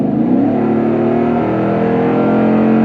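A loud, deep exhaust on a 2021 Toyota Tundra pickup with an aftermarket aFe Mach Force-Xp system revs up and holds a throaty, rumbling drone, close by and continuous throughout.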